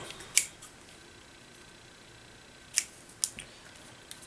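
Scissors snipping through sheet material being cut to shape after it is fixed down with glue or double-sided tape, heard as three crisp separate snips, quiet and close, with no talk.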